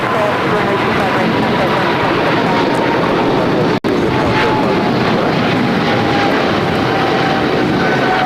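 Airliner jet at LAX near runway 25 right, a steady broad roar of engines filling the background, with radio chatter and talk over it and a brief dropout partway through.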